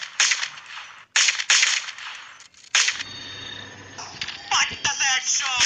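Gunfire in the GTA V video game, with several sharp, loud shots in quick bursts followed by softer game sounds and a voice speaking.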